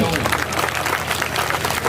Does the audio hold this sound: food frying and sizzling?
no